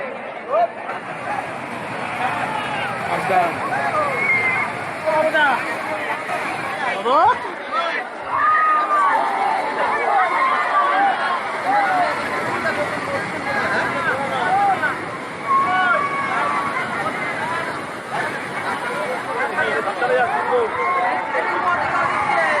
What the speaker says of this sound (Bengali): আর দীঘাতে আজকে প্রচুর ভিড়, প্রচুর মানুষ